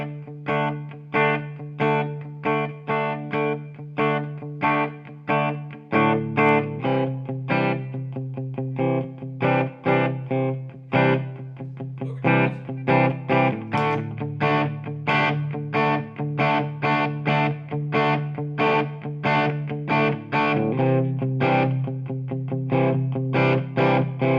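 A Fender Telecaster electric guitar, Modern Player or Nashville Deluxe, on pickup position one without overdrive, playing a clean picked riff with distinct plucked notes and chords in a steady rhythm, close and alone.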